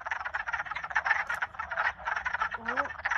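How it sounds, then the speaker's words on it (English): Wood frogs in a breeding chorus along woodland trails, a dense, continuous mass of rapid clucking croaks at close to moderate range with no talking. "play a quick video of the wood frogs that were breeding in this month"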